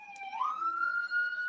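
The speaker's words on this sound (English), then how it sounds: "there are the fire sirens, if you can hear them on the microphone, going by the building here at ETV" A fire engine siren passing a building, a single faint wailing tone rising in pitch and holding steady, heard at a distance through the walls.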